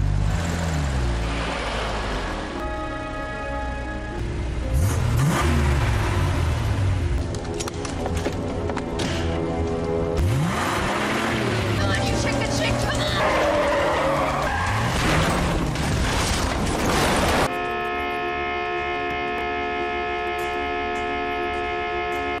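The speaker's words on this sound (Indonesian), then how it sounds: "Tom datang menabrakkan mobilnya dan membuat mobil Angela hancur terguling" Film car chase with loud engine roar and repeated tire squeals and skids, building to a collision as one car rams another and sends it rolling, ending in a lower steady hum.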